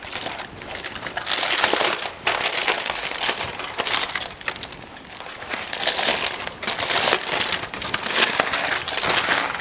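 A wrapped parcel of cabbage being opened by hand, giving steady loud crinkling and crushing of wrapping through the whole stretch, with a few brief pauses and bursts.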